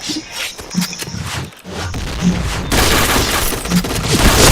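In the Point Blank shooter game, loud bursts of gunfire and explosive booms rattle close up, building into a dense, continuous barrage in the second half.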